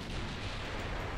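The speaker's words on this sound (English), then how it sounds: "15-inch Mark II guns." Naval gunfire from 15-inch Mark II guns in the Ultimate Admiral Dreadnoughts warship game, a deep rumbling boom filling the whole moment, loud and heavy without any distinct sharp crack.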